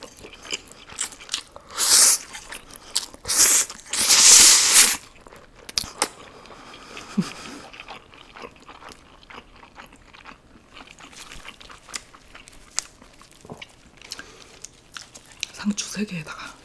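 Crunchy grilled beef intestines, daechang and gopchang, bitten and chewed up close, with a few loud crisp crunching bursts early on, then quieter mouth sounds and soft chewing.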